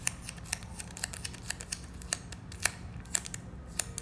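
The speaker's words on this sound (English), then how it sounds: "And this is how sticky it sounds." Strip of Scotch gift wrap tape with a satin finish being pulled and peeled, giving faint, close sticky crackles and scattered clicks spread across a quiet background.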